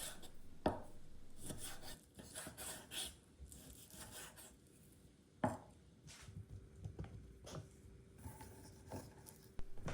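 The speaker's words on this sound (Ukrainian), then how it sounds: "Далі нарізаємо чорнослив." Irregular knife chops and scraping on a cutting board as prunes are cut, some sharp taps standing out among softer slicing and rubbing sounds, close by.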